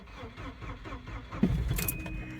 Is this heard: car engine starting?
yes